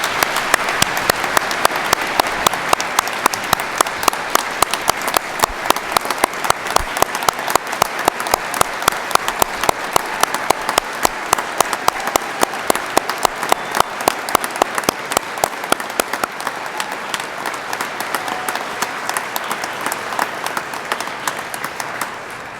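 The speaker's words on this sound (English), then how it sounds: "please join me with a round of applause" Sustained applause from a large audience at an Indiana State Police recruit class graduation ceremony, dense steady clapping that continues for a long stretch and gradually thins out toward the end.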